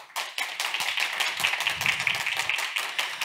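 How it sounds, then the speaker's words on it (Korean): A contest audience gives warm applause to welcome the first presenter, a Gwangju fire school professor, at a public HRD competition final, with quick, dense clapping that starts abruptly and holds steady for a few seconds. "큰 박수로 맞아주시기 바랍니다"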